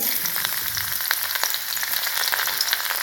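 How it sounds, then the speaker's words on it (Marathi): Garlic fries in hot oil in a kadhai, a close, even crackling sizzle with small popping bursts throughout and no talk. "इथे 1 पळी ऑइल टाकले, लसूण टाकणार आहे।"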